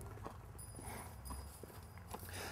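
A horse ridden forward at a cowboy riding lesson, its hooves clip-clopping in a steady walking rhythm, close and moderately loud over a low background rumble.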